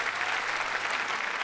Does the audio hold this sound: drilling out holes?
no